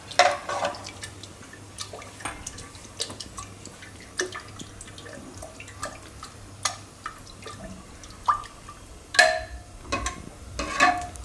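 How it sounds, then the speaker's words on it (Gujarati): Curd is stirred into a pressure cooker on a gas stove with curry leaves, producing scattered wet clicks, taps and scrapes against the metal that come in irregular bursts over a quiet background, without speech. "દહીં મિક્સ કરી દઉં."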